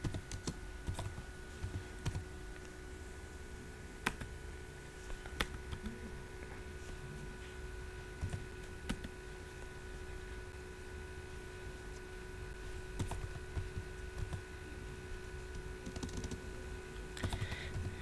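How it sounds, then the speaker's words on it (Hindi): Steady typing on a computer keyboard in a Linux vim editing session, with close, light key clicks in an uneven rhythm and occasional louder taps against a faint constant hum, with no voices. "मैं बस केवल आपको टाइप करके दिखा रहा हूँ"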